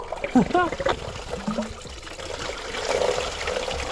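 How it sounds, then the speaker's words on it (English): Water pouring and splashing onto a workshop floor from the removed water pump of a Volvo V40 D2 during a timing belt replacement, a short trickling spill close by with a voice talking over it. "All the water down the floor."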